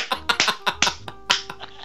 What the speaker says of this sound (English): You're clapping like a seal.